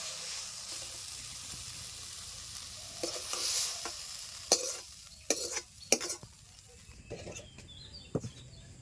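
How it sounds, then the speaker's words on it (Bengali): Cooked taro leaf greens scooped and scraped out of a pan, with soft sizzling underneath and several clinking, scraping strokes of the spoon against the pan toward the end. "কচু শাক হয়ে গেছে, উঠিয়ে নিচ্ছি।"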